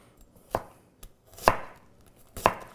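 A Shan Zu Damascus chef's knife slices an onion into half moons on a board, giving three distinct crisp chops about a second apart, close and clear, with a faint tap between them.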